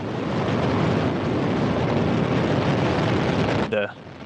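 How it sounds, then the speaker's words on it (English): A Soyuz rocket lifts off at night from Baikonur, its RD-108A core engine and four RD-107A strap-on boosters producing a loud, continuous rumbling roar that cuts off abruptly near the end. "The core stage's 4-chambered RD-108A engine and its 4 strap-on 4-chambered RD-107A boosters all ignited at liftoff"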